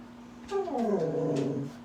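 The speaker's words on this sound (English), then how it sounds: "Can you hear my dog?" A dog gives a short, close, whining growl that rises and slides down in pitch, lasting under two seconds, in an otherwise quiet room.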